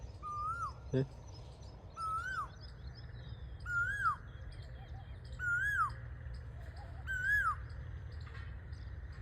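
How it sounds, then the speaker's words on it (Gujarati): An Asian koel calls repeatedly from a neem tree in a village garden, five clear rising-falling whistled notes spaced about every two seconds, moderately near over steady low background rumble. "લીમડા ડાળે ટવકા કરે કોયલ"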